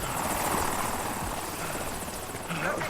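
A helicopter in the video game Battlefield 6 sends a constant loud rotor thrum and engine whine through the whole stretch, with a player's voice briefly audible over it.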